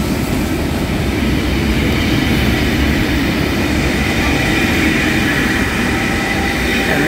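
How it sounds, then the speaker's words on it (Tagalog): A Sydney train passes close by, a loud, steady rumble and roar of wheels on rails that fills the whole stretch without letup. "Yan, train."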